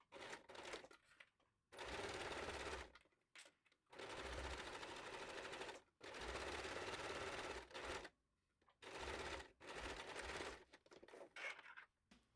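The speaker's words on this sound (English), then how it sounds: "and then we top stitch" Sewing machine topstitching a folded hem on a summer wrap dress, running in four steady bursts of rapid stitching separated by short pauses, close and clear with no talk.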